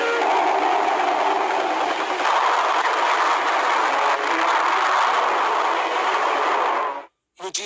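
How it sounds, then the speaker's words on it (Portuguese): A train bringing Brazilian Expeditionary Force soldiers arrives at the Vila Militar in Rio de Janeiro in 1944. Loud, steady rumbling rolling-stock noise fills the whole stretch without a break, then cuts off abruptly near the end. "um trem trazendo os homens da FEB chegou à Vila Militar no Rio de Janeiro"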